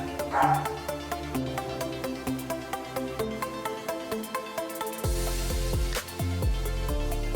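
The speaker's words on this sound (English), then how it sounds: "Sorry for the dog barking." A dog barks several times in the background of a home lower-body workout session, fairly faint and partly masked by steady rhythmic music.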